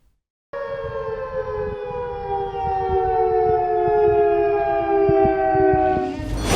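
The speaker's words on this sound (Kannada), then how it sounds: "ನಾಳೆ ರಾಜ್ಯದಲ್ಲಿ ಮೊಳಗಲಿದೆ ಸೇನೆಯ ಸೈರನ್" An army civil defense siren sounds for a mock drill, a loud, steady wail that starts abruptly after a brief silence and holds unbroken, swelling slightly toward the end.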